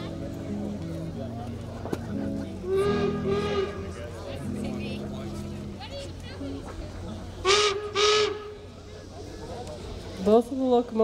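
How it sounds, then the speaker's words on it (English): Steam locomotive whistles at Promontory Summit during a Golden Spike celebration, sounding in two clear paired blasts near the end among crowd noise and chatter, with earlier brief tones and people talking throughout. "Both of the locomotives have done 2 whistles, which means forward."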